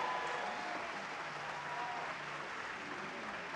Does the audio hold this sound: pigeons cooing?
no